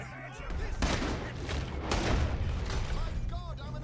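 A volley of gunshots in Red Dead Redemption 2, several sharp, loud cracks in quick succession with echoing tails and clinks between them, heard against game ambience, with voices briefly speaking around the shooting.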